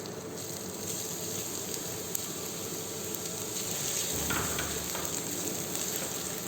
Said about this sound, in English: Heat oil, add fine chopped onions,